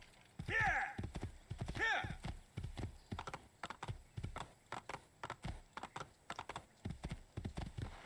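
Horse hooves clip-clop in a steady, close rhythm in Assassin's Creed 2 as the rider trots through Monteriggioni, with a couple of loud whinnies or voice bursts near the start.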